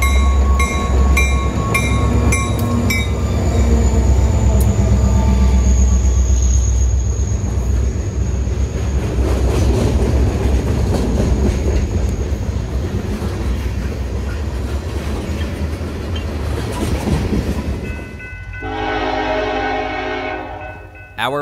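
Pan Am Railways local freight train DO1 running westbound from Rigby Yard, a loud rumbling pass of rolling freight cars with clanking wheels, a brief horn blast at the start and another tonal horn near the end.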